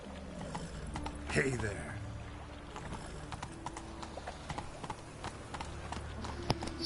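Roach, a horse in The Witcher on PS4, galloping with a steady run of hoof clops under a brief spoken line and light game sounds.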